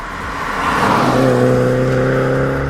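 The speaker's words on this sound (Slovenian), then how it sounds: "ker pri prestavljanju vedno poka iz izpuha" A 2015 Mini John Cooper Works engine rising in a steady rev, a loud close whir building and then holding a sustained tone, with no clear exhaust pops standing out.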